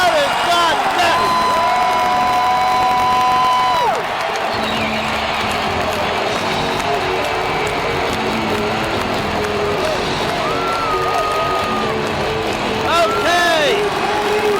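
A basketball arena crowd at a Dallas Mavericks versus Portland playoff game roars and cheers continuously, with whoops and shouts rising and falling, mixed with whistles and arena sounds.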